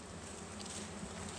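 A steady, low buzz of honeybees from a newly installed package hums continuously at moderate volume, like a cluster of bees droning close by, with no speech.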